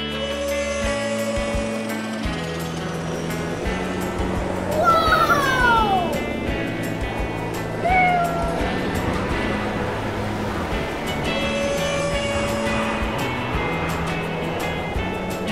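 A cat meows a few times in a toy play scene with a real fire truck, short rising and falling cries over a busy bed of music and playful sounds, with a voice speaking in the mix.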